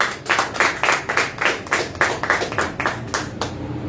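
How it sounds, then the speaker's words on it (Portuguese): Rhythmic, evenly spaced hand claps from a congregation during a church service, a steady beat of roughly three claps per second that fades slightly at the end, with no talking. "Aplauda o Senhor."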